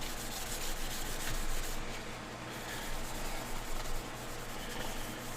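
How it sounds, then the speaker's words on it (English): Charcoal is rubbed back and forth over a carved mask surface to bring out its lettering, a steady, close, dry scratching hiss that keeps going evenly for several seconds without a break and without any voice. "I'm just taking a little charcoal. I'm just gonna rub that on there."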